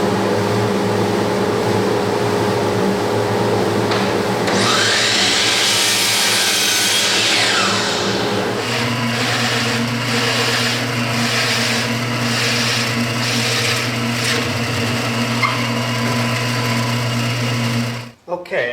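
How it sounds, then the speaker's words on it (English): A power tool cuts a piece of vinyl for a tail light upgrade, a loud continuous whine and grind running throughout with a brief rising hiss partway through. "So let's go cut a piece of vinyl."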